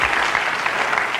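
Steady, dense applause from a studio audience at The Tonight Show, with many hands clapping evenly and close, sustained without a break.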